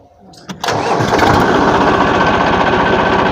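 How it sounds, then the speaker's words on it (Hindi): A Massey Ferguson DI 9500 tractor engine cranks briefly, then catches and settles into a loud, steady, throbbing idle right up close. "अब हम आपको ट्रैक्टर को स्टार्ट करके दिखाएंगे"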